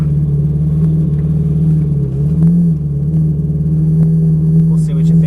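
Ferrari 458 Italia V8 pulling away under light throttle, a steady low engine drone with a brief rise in pitch midway, close and continuous, with a voice speaking over it.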